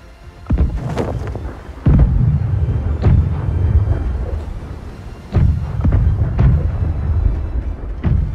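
Ship cannons in the naval combat game Blackwake, several loud booming shots at irregular intervals with rumbling tails between them and no talking.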